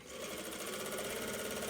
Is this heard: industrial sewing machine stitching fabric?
yes